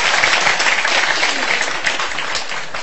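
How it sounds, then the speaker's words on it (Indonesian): Audience clapping at a Maiyah gathering with Cak Nun, a steady dense patter of many hands filling the whole stretch, loud and close with scattered crowd noise underneath. "Tepuk tangan semuanya, tepuk tangan semuanya."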